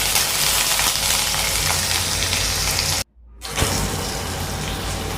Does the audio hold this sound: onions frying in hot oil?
yes